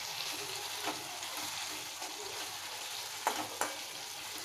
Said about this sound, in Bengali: একটু মাখিয়ে নিয়ে নাড়াচাড়া করে